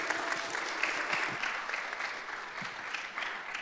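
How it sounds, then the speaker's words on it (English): An audience at a live-streamed talk event claps in steady, continuous applause, a dense patter of many hands that holds at an even level throughout. "Let's give her another round of applause,"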